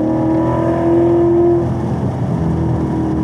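A Chevrolet Camaro ZL1 1LE engine on a race course, loud and close, holds a steady drone that breaks into uneven, rough sputtering partway through from a fuel problem.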